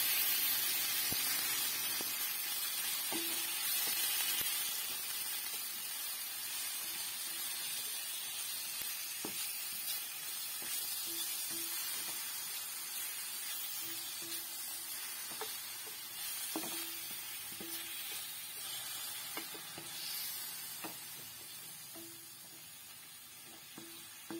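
Pure lean pork frying in a pan for a pork and corn powder dish, a steady broadband sizzle with faint scattered stirring clicks, moderately quiet and continuous with no voices.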